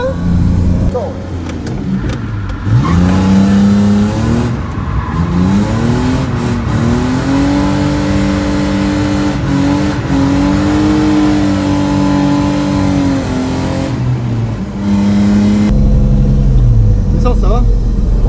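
A BMW E30 drift car's engine revs hard at a drift event, climbing and holding through repeated sustained high-rpm pulls with loud, close, rising and falling engine tones, then dropping back near the end.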